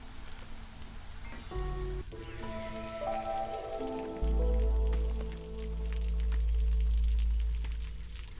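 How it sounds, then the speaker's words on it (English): Rain in a survival city builder video game set in an apocalyptic storm and flood, a steady patter over layered synthetic game tones, with a deep swelling rumble coming in halfway. "Well, there goes the rain again."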